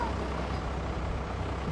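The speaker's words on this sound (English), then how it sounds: "That's a bus. Yeah, it's a bus." A bus passes at a car show, a steady low rumbling engine drone with a sustained hiss, close and continuous throughout.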